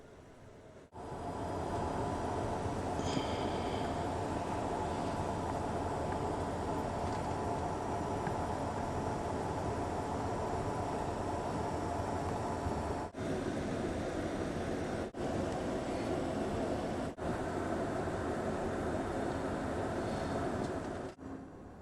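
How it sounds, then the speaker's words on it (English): Sunset Limited passenger train creeping slowly into new desert locomotive fueling and service islands: a constant low mechanical rumble and hum, fairly faint, steady throughout with a few brief dropouts. "train crept into these brand new service islands where locomotives take on fuel and other necessities."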